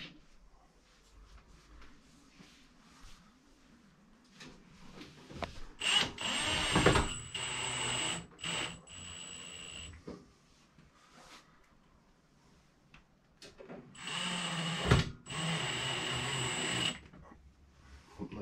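A power drill drives screws into a microwave mount, heard in two strong whirring bursts of a few seconds each, separated by quieter handling sounds and clatter.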